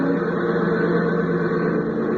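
A small airplane engine running rough, as in a radio drama, drones steadily and fairly loud with a coarse, uneven hum throughout, with no voices over it.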